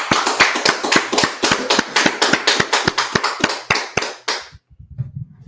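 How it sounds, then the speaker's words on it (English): An audience claps in a quick, steady burst of distinct hand claps at a lecture by the Israelite School of Universal Practical Knowledge in Washington DC, loud and close, stopping abruptly near the end with a few faint sounds after. "let's clap it up"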